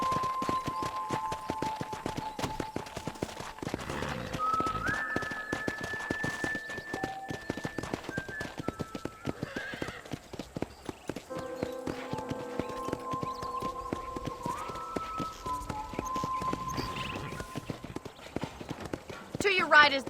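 Horse hooves clip-clopping at a steady walking pace in the Red Dead Redemption video game, close and continuous, with game characters talking over them.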